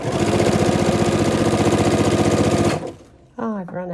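A home sewing machine stitches steadily through a quilt-as-you-go Kawandi-style coverlet, a loud continuous rhythmic whirr that stops abruptly near the end, followed by a brief spoken remark.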